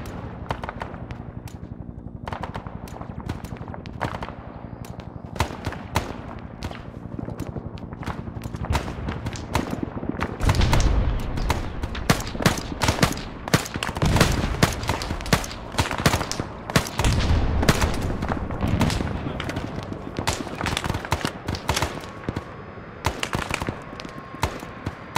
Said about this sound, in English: Fire for effect. I will adjust. BT, fire. Shot. Shot out. Rounds complete.